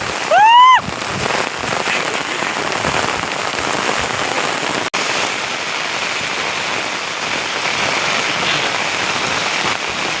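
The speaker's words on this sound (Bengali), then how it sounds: "অনেক জোরে বৃষ্টি পড়তেছে" Heavy rain pours steadily as a dense, even hiss close by, preceded by a brief loud rising whistle-like tone at the start and a sharp click midway.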